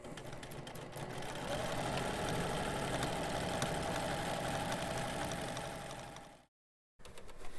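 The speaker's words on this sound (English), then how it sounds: "Now we're going to sew this seam." Sewing machine stitching a seam on fabric, a steady mechanical whirring run lasting several seconds, close and fairly loud, stopping abruptly before a brief restart at the end.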